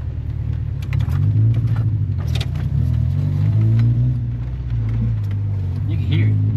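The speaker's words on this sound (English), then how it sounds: "I think it got something to do with the misfire" A Honda Civic engine with a misfire idles and rumbles steadily up close, its low uneven drone running throughout while people talk over it.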